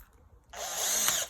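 A power drill fitted with a 3.3mm bit whirs to life after a short silence, a high steady buzzing that builds and holds for about a second before cutting off.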